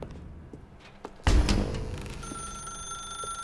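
A telephone rings loudly in a video game after a soft thud, followed by steady high electronic ringing tones that hold on.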